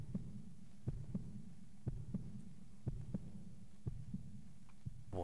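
A heartbeat effect from the video game Parasite Eve: evenly spaced double thumps over a low steady hum, clear and close, with no talking.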